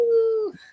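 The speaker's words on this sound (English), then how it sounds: "We always have to howl here." Wolf howl: a single sustained, steady tonal howl lasting under a second, loud and close, ending with a brief falling trail-off.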